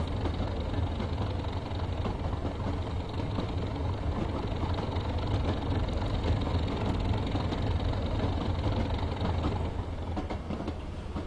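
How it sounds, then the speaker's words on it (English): A Class 37 diesel locomotive rumbles continuously in Train Simulator, a dense, steady low engine drone with constant mechanical texture and no talk over it. "Kick that engine into life."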